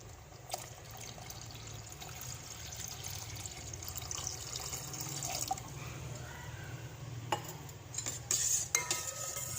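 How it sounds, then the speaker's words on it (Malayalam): Second coconut milk is poured into pineapple payasam in a pan, a soft continuous liquid pour with drips and a few metallic clinks of utensils near the end. "ഈ സമയത്ത് നമുക്ക് രണ്ടാം പാല് ചേർത്ത് കൊടുക്കണം"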